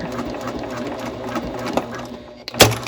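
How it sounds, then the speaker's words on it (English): A sewing machine stitching a tote bag, its fast, even needle clatter running steadily before a pause and a brief sharper handling noise at the end, with a person speaking faintly over it. "Take out this clip and sew down to the opposite corner."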